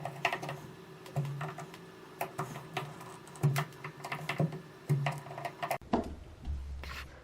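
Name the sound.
tightening screws on Pfister shower cartridge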